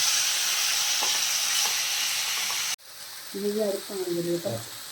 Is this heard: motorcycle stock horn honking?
no